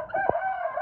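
A rooster on a farm animal sanctuary gives a single short, faint crow or call, heard briefly at a distance against quiet outdoor background.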